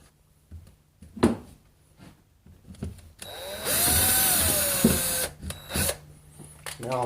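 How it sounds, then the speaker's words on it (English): A steady whirring power drill bores into turkey meat for about two seconds, with a rising and falling whine, between quieter handling noises and clicks. "now what I'll do is I'll drill through that meat just a little bit"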